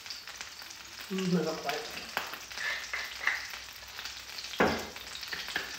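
Butter sizzling in a frying pan on the stove, a soft crackle that is fading and quieting, with brief talk and a few kitchen clinks over it.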